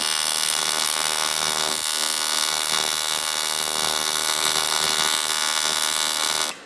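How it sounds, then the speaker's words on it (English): An Alpha Tig 200X TIG welder with a fault welds poorly, giving a loud, continuous harsh buzzing hiss that holds steady for several seconds, then cuts off abruptly at the end. "And then it starts to weld, but not well."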